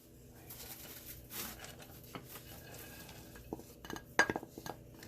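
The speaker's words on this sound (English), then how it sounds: "Okay, guys, let's add the chocolate." Chocolate stirred into boiling milk in a pot, a soft scraping of a spoon against the metal with light clinks and a low simmering bubble, quiet and close.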